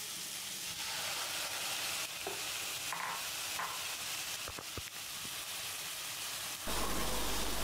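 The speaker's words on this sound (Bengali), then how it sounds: "দিয়ে দিব আগে থেকে মেরিনেট করে রাখা মশলাগুলো দিয়ে ভালোভাবে নাড়াচাড়া করে বেশ কিছুক্ষণ ভেজে নেব।" Marinated spices fry in a hot pan for a koi fish curry, giving a steady, close sizzle with scraping stirs and brief clatters; the sizzle grows louder near the end.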